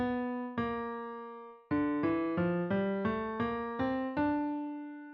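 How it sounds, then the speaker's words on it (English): Short melody in the Aeolian mode, the natural minor scale with a flattened sixth, played as about a dozen clean plucked or struck notes, each ringing and decaying, close and quiet with no voices. "To get the Aeolian mode, or the minor scale, you also have to make the 6th note flat."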